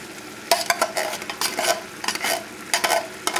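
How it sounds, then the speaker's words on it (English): Ground beef chili with red beans and tomato sauce gets stirred in a pot, with a spoon scraping and clacking in quick bursts over a soft sizzle, close and fairly loud. "I'm going to stir this up"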